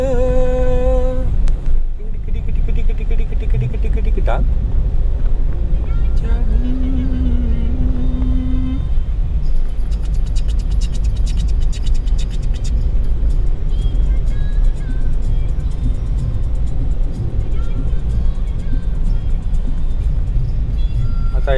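A vehicle drives along a road behind two or three trucks, one hauling sacks, near road construction. Its steady engine and tyre rumble stays loud and continuous, with no one talking.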